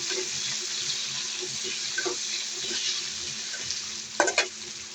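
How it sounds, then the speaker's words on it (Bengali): Chopped onions fry and get stirred in a pan for a home-style rohu fish and green papaya curry, a steady sizzle with soft scraping stirs and a louder clatter near the end, no voices. "আমি এখন পেঁয়াজ কুচিটা দিয়ে দিব। দিয়ে দিলাম। দিয়ে নাড়াচাড়া করতে থাকবো।"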